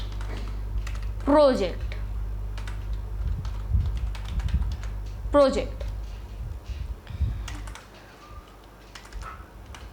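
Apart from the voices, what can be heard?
typing on a computer keyboard in Notepad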